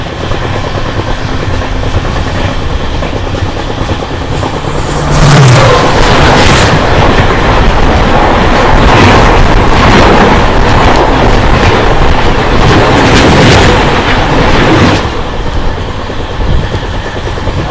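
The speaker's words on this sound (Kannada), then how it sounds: "ಇನ್ನೇನಿನ್ನೊಂದು ಸ್ವಲ್ಪದಲ್ಲೇ ಬಾರ್ಮೇರ್ ಯಶವಂತಪುರ AC ಎಕ್ಸ್ಪ್ರೆಸ್ ಜೊತೆ ಕ್ರಾಸಿಂಗ್ ಇದೆ" The Barmer–Yesvantpur AC Express crossing past a moving Yesvantpur–Shivamogga Intercity Express near Kadur, a loud rushing roar of passing coaches with rhythmic clatter that builds suddenly, holds for about ten seconds, then falls away to steady running noise.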